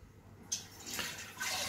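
Water splashes and rushes into a saucepan being rinsed in a kitchen during pasta e fagioli preparation, coming in short close bursts that swell and fade.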